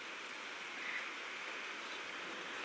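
Heavy monsoon rain pours down steadily under dark, cloud-filled skies, a dense, even hiss that stays constant throughout with no voices.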